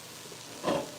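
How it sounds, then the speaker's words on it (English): Rice frying in a pan gives a soft, steady sizzle that swells louder near the end of the short stretch, with no talking. "You hear it sizzling?"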